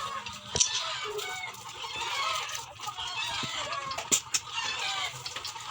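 A flock of chickens clucks and squawks noisily, with overlapping calls and a few sharp louder cries rising out of the steady din, under a video game being played.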